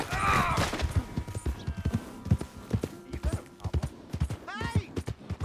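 Horse hooves clip-clop in Red Dead Redemption 2, a run of sharp hoofbeats mixed with shouting voices and ambient game noise, with a brief whinny near the start.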